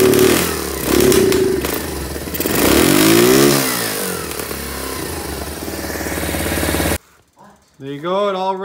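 A Kawasaki KLT200 motorcycle engine with a new aftermarket CDI roars loudly, revving up and down in surges, then cuts off abruptly before a person starts talking.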